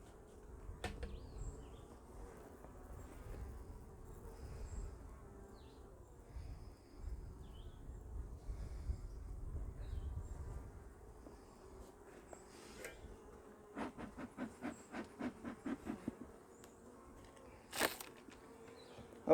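Honey bees buzz around a hive while feeding on syrup, a faint close drone with individual insects zipping past the listener, plus a few light knocks and handling sounds.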